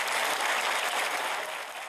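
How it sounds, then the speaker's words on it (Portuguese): Standing ovation for Jair Bolsonaro and Hamilton Mourão entering the plenary of Brazil's Superior Electoral Court, dense sustained clapping from a large audience, loud and steady, fading slightly toward the end. "Jair Bolsonaro e Hamilton Mourão foram aplaudidos de pé ao entrarem no plenário do Tribunal Superior Eleitoral"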